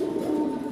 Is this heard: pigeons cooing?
yes